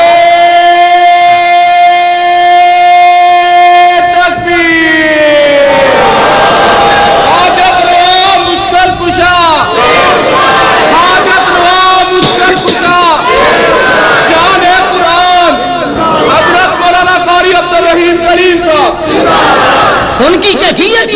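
Large crowd at a religious gathering chanting slogans, a loud sustained chant from a lead voice followed by massed rhythmic shouted responses in repeated waves throughout.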